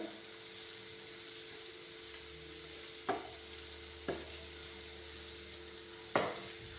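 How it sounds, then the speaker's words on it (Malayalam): Chopped tomatoes and carrots fry quietly in a pan for a street-food chana masala, a faint steady sizzle with a low hum, marked by three distinct clanks of a spatula against the pan. "ഞാൻ തക്കാളി ചേർക്കുന്നുണ്ട്, പിന്നെ ക്യാരറ്റും കൂടി ഇട്ട് കൊടുക്കുന്നുണ്ട്"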